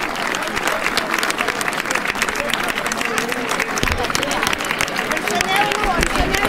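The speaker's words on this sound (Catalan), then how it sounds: "Un aplaudiment per les pastaleries Poix," Audience at a first-anniversary celebration of the Avis i Àvies per la Llibertat in Reus applauding steadily as a birthday cake from a pastry shop is brought in, with crowd murmur and voices mixed into the clapping.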